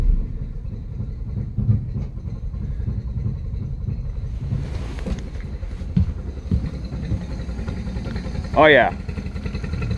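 A four-stroke outboard motor running rough and barely turning over at about quarter throttle, a low, uneven, sputtering rumble with a brief voice and a sudden rising whine near the end.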